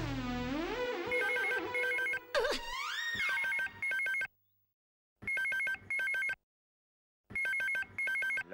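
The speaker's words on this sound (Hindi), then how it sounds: "लगता है खबरी का फोन है।" Electronic telephone ringing in repeated bursts of rapid trilling tones with silent gaps between them, clear and close, preceded by a short rising synth sting.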